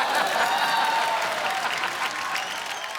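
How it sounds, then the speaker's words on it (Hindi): Studio audience applause on a TV comedy show, a dense, steady wash of clapping from a crowd that fades slightly toward the end. "एक बार अभिषेक भाई के लिए जोरदार तालियां हो जाए।"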